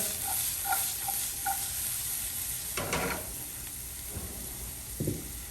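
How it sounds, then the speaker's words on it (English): Diced onions and chopped garlic sauté in a pan with a soft, steady sizzle, punctuated by a few light clinks and scrapes of a stirring utensil; fairly quiet and close, with no talking. "We're just going to saute that down a little bit."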